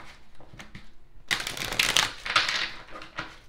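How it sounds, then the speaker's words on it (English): A deck of cards being shuffled by hand close to the mic: a few soft riffles, then a dense, loud flurry of papery slaps and flutters that trails off into lighter taps. "Let me shuffle again."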